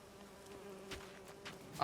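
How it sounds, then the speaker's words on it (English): Bees buzzing at a nest in The Witcher 3: Wild Hunt, a steady faint insect drone with a sustained hum running throughout, swelling briefly in a few spots near the end. "There's a bee's nest."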